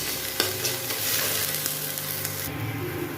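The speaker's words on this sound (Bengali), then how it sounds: "দিয়ে এগুলো বেশ ভালো করে ভাজা ভাজা মতন করবো।" Chillies sizzle steadily in a hot pan with oil, a soft continuous crackle broken by a few light stirring scrapes. It is fairly quiet, with no talking.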